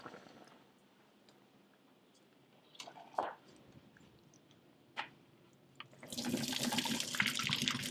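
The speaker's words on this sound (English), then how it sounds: "I'm going to turn the heat off, and then I'm going to drain off all the water" Water drained from a pot of cooked sweet potatoes: a few knocks and splashes first, then a loud, continuous gush of pouring water over the last two seconds.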